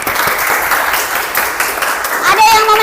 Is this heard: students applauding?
yes